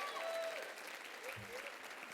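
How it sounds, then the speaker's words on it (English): An audience claps for the Community Foundation at the Petoskey Chamber Celebration of Champions awards event, a fairly quiet, steady patter of applause lasting a couple of seconds, with faint tonal sounds over it. "can you applaud for the Community Foundation?"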